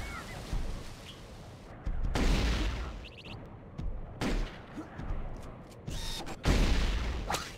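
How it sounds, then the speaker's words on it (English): Plasma rifle fire in a multiplayer shooter match, several loud bursts of rapid energy shots separated by short pauses, with booming explosions and faint electronic blips between them. "Plasma rifle."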